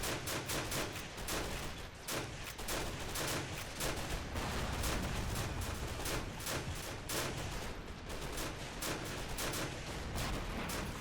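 Artillery from howitzers pounds enemy infantry in a World War II video game siege, a continuous barrage of dense, overlapping booms and cracks at steady high intensity throughout, with no talk.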